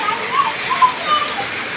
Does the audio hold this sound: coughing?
no